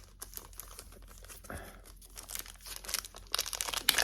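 Plastic packaging around a LaCie 500GB SSD external drive crinkles and tears as it is pulled open, with irregular crackling bursts that grow louder and denser toward the end, close by.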